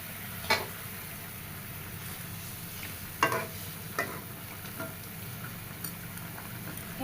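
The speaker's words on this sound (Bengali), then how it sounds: "ভালো মতো ঝোল ফুটে গেছে" Tilapia fish curry gravy simmering with fried fish pieces added, a steady low bubbling hiss with a few soft clicks of stirring or utensil contact.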